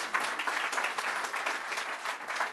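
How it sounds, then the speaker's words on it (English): Dense, steady round of applause from a seated audience at a business funding and scaling event, many hands clapping evenly with no talk over it. "Maybe give him a round of applause."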